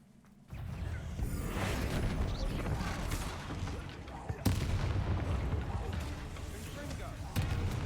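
Booming Confringo spell blasts erupt in the Hogwarts Legacy video game, loud explosive bursts with whooshing rumble and crackle, a sharp hit midway and another near the end, as a voice speaks.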